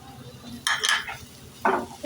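Bhindi masala frying in a pan with grated fresh coconut, being stirred in two brief scraping bursts over a faint sizzle, close and with no talk.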